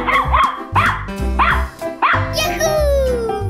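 Cartoon dog barks in short, bright bursts, four or five yelps in a bouncy rhythm over loud game music and effects, with a child-like voice chiming in near the end.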